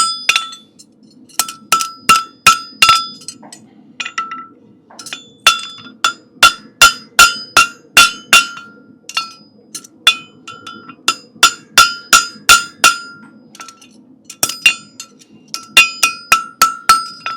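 A blacksmith hammers a horseshoe closed while forging, producing loud, bright metallic clinks struck in quick rhythmic bursts with short pauses between, each ringing briefly, close and alone with no talk.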